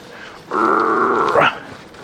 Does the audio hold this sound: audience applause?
no